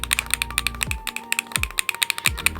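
Rapid, crisp clicks from the top shoulder buttons of a Nintendo Switch controller, pressed in quick bursts close to the microphone, sharp and distinct with no talk.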